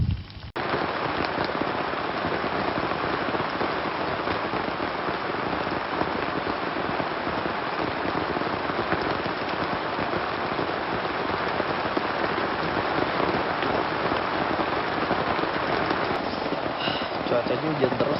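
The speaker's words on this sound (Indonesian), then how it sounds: "Cuacanya hujan terus nih" Steady heavy rain pours down without a break, a dense hiss of drops hitting surfaces close by, on foggy Mount Sumbing.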